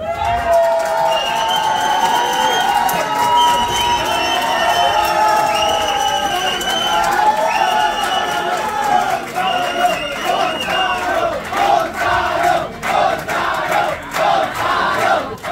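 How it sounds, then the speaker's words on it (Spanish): A studio audience at a televised talent show applauds and cheers loudly for Gonzalo's group, with many high voices shouting and whooping over steady clapping that stays dense and close throughout. "Que sean fuertes los aplausos para el grupo de Gonzalo"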